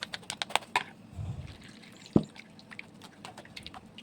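Coconut milk is strained by hand, with a scatter of small drips, squelches and soft liquid splashes, plus a few light taps and one sharper knock near the middle.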